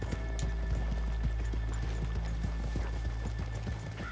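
Horse hooves in the video game Red Dead Redemption 2 clop in a steady, quick rhythm at close range, with a low ambient rumble beneath.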